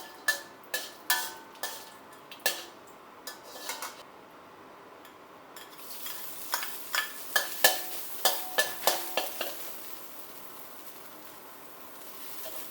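Pounded coriander root, garlic and pepper dry-roasted in a pan over low heat, with a utensil clinking and scraping against the pan in a steady series of sharp taps and a faint sizzle underneath.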